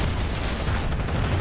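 Gunfire in the large-scale online shooter Planetside 2, a brief dense wash of distant shots and rumbling battle noise, steady and loud without clear individual cracks.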